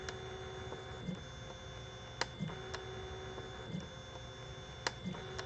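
An EasyThreeD K1 3D printer lays down a raft for a regular-sized Benchy, giving a steady motor whine and hum broken by faint, irregular ticks and clicks, with no talking.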